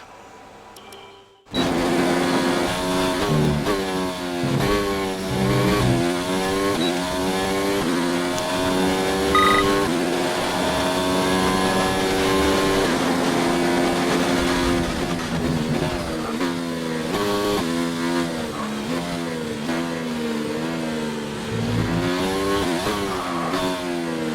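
A Formula 1 car in the F1 2019 racing game on the China circuit screams through a lap, its engine rising and falling through repeated upshifts and downshifts, loud and continuous from start to finish after a brief quiet opening.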